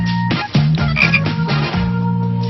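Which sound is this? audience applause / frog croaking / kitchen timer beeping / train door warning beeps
frog croaking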